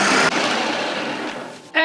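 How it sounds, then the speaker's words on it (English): Six bananas, four eggs, butter and sugar whir in a blender in a short, loud, steady run that dips briefly at the start, with a voice cutting in right at the end. "with your 6 bananas and your 4 eggs and your butter and your sugar in the blender"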